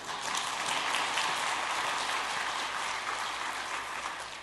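A church congregation applauds during a Sunday afternoon worship service, a steady, dense wash of clapping from many hands heard at moderate distance throughout, with no one talking.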